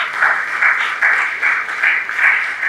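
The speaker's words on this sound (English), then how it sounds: "Please, another round of applause." Audience applause at a keynote address, a steady wash of clapping with rhythmic swells that holds loud and full for the whole stretch, with no voices over it.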